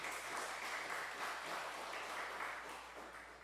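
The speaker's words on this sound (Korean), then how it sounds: "박수 한번 쳐드리시죠." A church congregation claps together in sustained, fairly soft applause that fills the room evenly and tapers slightly toward the end.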